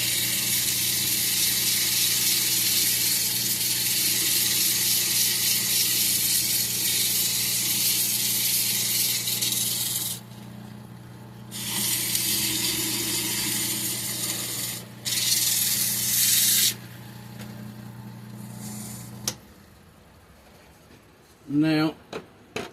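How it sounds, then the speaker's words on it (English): Sandpaper rubs steadily over a small cedar urn, a continuous close rasping hiss with a low steady hum beneath, stopping and restarting in several bursts before falling quiet, with a few handling knocks at the end. "Give it a light sanding."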